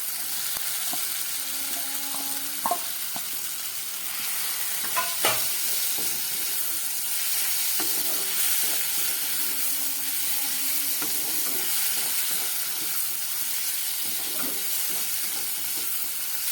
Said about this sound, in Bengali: এবার আমি এর মধ্যে ভেজে রাখা আলু আর পেঁয়াজ কালিটা দিয়ে দিচ্ছি।